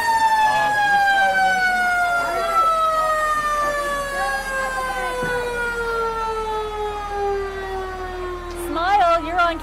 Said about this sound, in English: Fire chiefs are really big on the siren, I've noticed.